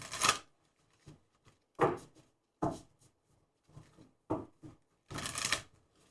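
Tarot cards being shuffled, a series of soft riffling bursts and brief flutters separated by short pauses, close and fairly quiet, with no talking.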